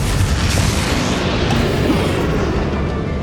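The Confringo fire spell in Hogwarts Legacy bursts into a loud, booming explosion, a dense roar with heavy low rumble that holds steady for several seconds.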